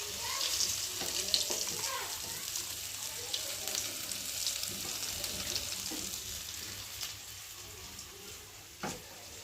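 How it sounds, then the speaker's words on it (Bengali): Oil is stirred around a hot kadai, a low crackling sizzle with scraping strokes and a few sharper knocks, fading slightly toward the end, with faint voice in the background. "তো চলো এখন কড়াটা নাড়িয়ে নাড়িয়ে দেবো, তো তেলটা হালকা হালকা করে লাগে এর মধ্যে।"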